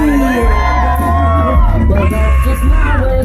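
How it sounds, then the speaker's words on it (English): A loud crowd at a Motoblot pin-up contest cheers and whoops for a contestant, with shouts and yells layered over a busy, continuous roar from close by. "Let's give a little lady luck cheer to Tina Marie!"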